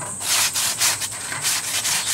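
Crumpled tin foil held in tongs scrapes back and forth across a grill grate, giving about five or six close, rough, rhythmic strokes.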